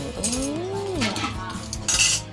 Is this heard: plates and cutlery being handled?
yes